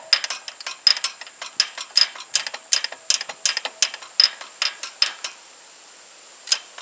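A ratchet on a long extension loosens injector pump bolts on a Jinma 284 (Smartrac) tractor, giving a rapid, close series of sharp metallic clicks in uneven bursts before trailing off to a last few clicks.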